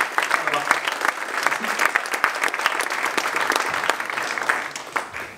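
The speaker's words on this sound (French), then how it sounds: "Je vous demande de l'applaudir." A tech-talk audience applauds steadily, dense overlapping claps sustained throughout at close range.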